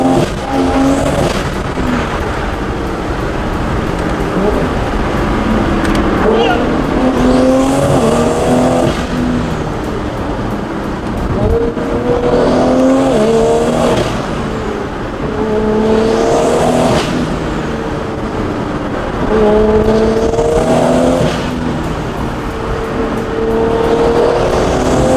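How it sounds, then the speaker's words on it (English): A big-turbo Toyota Supra engine roars from inside the car on a ride along, with repeated loud acceleration pulls rising in pitch, then shifts and brief lifts, close and continuous for the whole stretch. "This car sounds so good."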